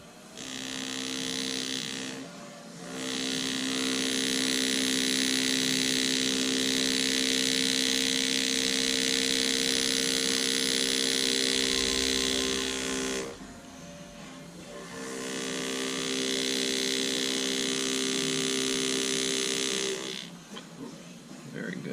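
A high-speed rotary burr whines in a steady, piercing tone while texturing a background surface, running loud for about ten seconds, pausing briefly, then starting again for several more seconds.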